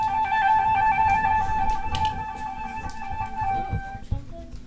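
A flute sustains a steady tone with quick trills and flutters meant to sound like a bird, close and fairly loud, then fades out near the end amid faint room noise.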